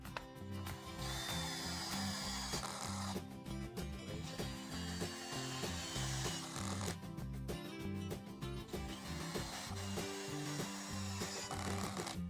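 DeWalt DCD791 brushless cordless screwdriver driving screws in two bursts, a loud, close whirring motor with rising strain as each screw seats, briefly pausing between runs and at the end.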